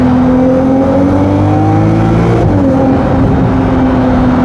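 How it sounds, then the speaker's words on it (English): A V6 sports car engine accelerates, close and loud, its droning note climbing in pitch with a brief shift partway through before rising again. No voices are heard. "Try telling me that's not one of the best engine sounds out there."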